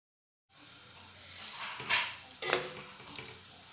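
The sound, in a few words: moong dal frying directly in oil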